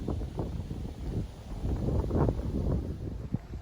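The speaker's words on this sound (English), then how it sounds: "A bit breezy out here." A breezy outdoor wind buffets the microphone during a walk, a continuous low rumbling gust that swells and eases without pause, with no other clear sounds.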